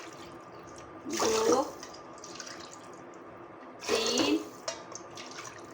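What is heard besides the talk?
water being poured into a pot, measured by cup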